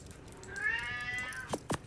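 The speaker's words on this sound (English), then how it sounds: "You hear him going again, I don't know why he's meowing." Pet cat named Charlie giving one drawn-out, rising-and-falling meow, close and clear, followed by a couple of short soft thumps.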